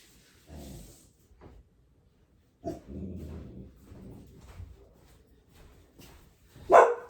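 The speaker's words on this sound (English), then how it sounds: "sorry about my dog, that Sasha's talking" A pet dog barks and grumbles indoors, a few low woofs and muffled vocal bursts spread across several seconds, ending in one sharp, loud bark.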